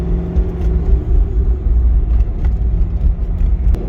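A warmed-up Chevrolet Corvette C6 Z06 idles with a deep, steady, loud rumble close by, its low throb pulsing evenly with faint clicks above and no one talking.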